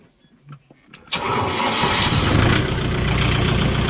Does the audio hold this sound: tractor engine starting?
yes